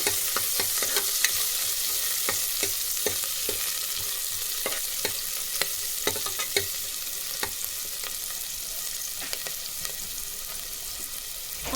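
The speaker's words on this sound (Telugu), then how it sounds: "ఆనియన్ ఫ్రై అవుతుంది." Onions fry in a pan with a steady hiss of sizzling oil, broken by frequent quick scrapes and taps of a spatula stirring them, heard close and without talk.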